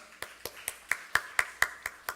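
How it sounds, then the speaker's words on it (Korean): Church congregation at a Korean young-adult worship service clapping to welcome one another: about nine sharp, evenly spaced claps in a steady rhythm, fairly close and moderately loud, with no voices over them. "우리 오늘 예배 자리에 나오신 서로를 향해서 이 시간 박수로 서로를 환영하겠습니다"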